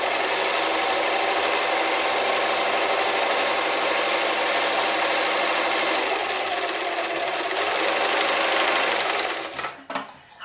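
A German-made Singer 720 sewing machine runs a chain stitch in one continuous, fast, even whir for about nine seconds, then slows and stops.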